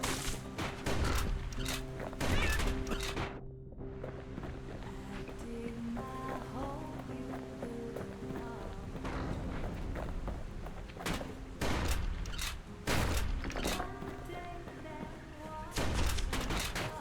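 Shotgun blasts in the action game Bastion, several loud bursts in irregular clusters over a steady music and game-sound bed, with a brief dip to near quiet partway through.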